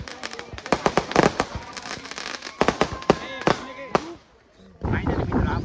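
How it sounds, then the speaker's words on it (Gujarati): Firecrackers burst in rapid, uneven volleys of sharp cracks at the 30th Param Utsav village festival in Bhaguda, some loud and close, with a brief lull before dense crackling resumes amid crowd voices. "આ બધા ફટાકડા ફૂટે છે"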